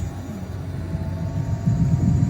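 An airplane flies near a runway beside an airport, a steady low engine drone throughout that swells slightly louder toward the end, heard outdoors over wind.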